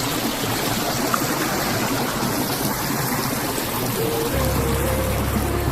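A shallow, low river flowing over stones at a crossing on a summer valley trail, a steady close rushing and trickling wash that continues without a break.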